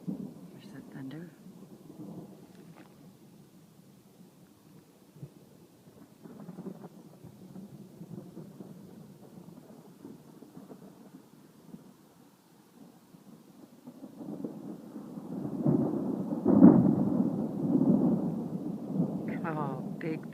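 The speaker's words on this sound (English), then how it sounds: "There's that thunder." Thunder from a summer storm in Sweden, a distant low rolling rumble that swells into a louder, closer boom near the end, with faint speech at times.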